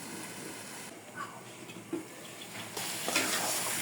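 Masoor dal sautés in a covered pan with a quiet, muffled sizzle and occasional soft knocks. Toward the end the frying grows brighter and louder, as if the lid were lifted.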